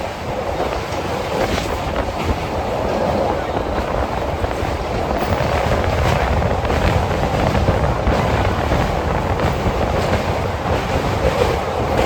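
A passenger train travelling from Kolkata runs on rails with a loud, continuous rumble and rattling clatter heard from inside, steady throughout, with voices faintly underneath.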